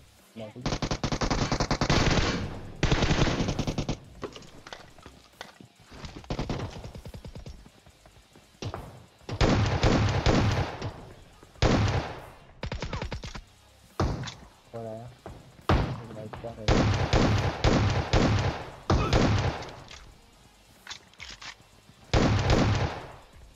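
Repeated bursts of automatic gunfire in the mobile shooter PUBG Mobile, loud rapid volleys separated by short lulls, with talking running beneath in places.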